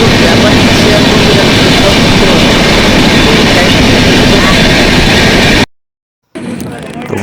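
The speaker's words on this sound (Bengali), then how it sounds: "আমাদের ট্রেন এখন এনজিপি স্টেশনে ঢুকছে।" A passenger train rolls into NJP station with a loud, close, continuous rumble and rattle that cuts to a sudden short silence before quieter noise returns.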